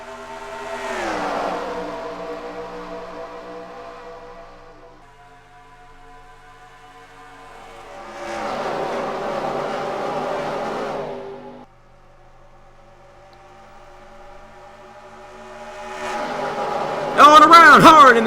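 Race cars in a racing video game at Indianapolis sweep past in three separate passes, each engine note swelling and then fading, with a sharper burst of noise at the very end.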